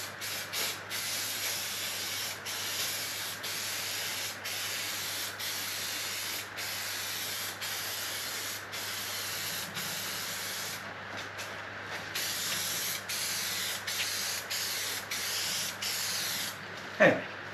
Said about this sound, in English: I must have run out of spray.